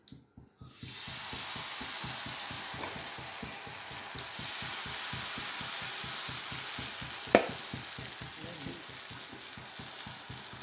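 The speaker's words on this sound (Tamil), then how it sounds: "இப்போ வந்து நாம் தோசை ஊற்றிக்கலாம்" Rava dosa batter poured onto a hot pan sizzles in a steady, close hiss with fine crackling throughout, and a brief clink stands out partway through.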